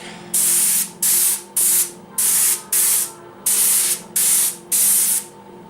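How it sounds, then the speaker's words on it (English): A Paasche BL number 3 airbrush at 70 PSI sprays paint in eight loud, even bursts of hissing, each about half a second long, separated by brief pauses. "I'm using the Pasha BL number 3 at 70 PSI."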